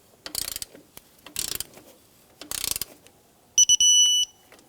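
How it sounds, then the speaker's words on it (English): A torque wrench ratchets in three short clicking bursts while a Subaru Outback alternator adjusting bolt is tightened, followed by a shrill electronic beep that marks the set torque. "So I'm going to torque up the alternator adjusting bolt, and that's 22 foot-pounds."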